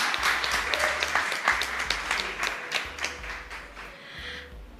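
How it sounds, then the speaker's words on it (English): An audience at a panel discussion applauds as a speaker is introduced, with hearty and steady clapping that stays close, a low hum running underneath, and a slight tapering toward the close. "A round of applause for him."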